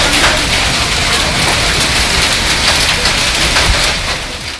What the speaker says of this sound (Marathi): सायंकाळी मात्र वादळी वारं आणि गारांचा पाऊस झाला.